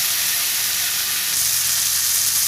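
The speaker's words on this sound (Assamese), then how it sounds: "বিলাহীখিনি অকণমান গলি নোযোৱালৈকে অলপ ভাজি থাকিব লাগিব।" Tomatoes sizzle and fry in a pan over low gas heat, with turmeric powder added. The hiss is loud, steady and close, with no talking.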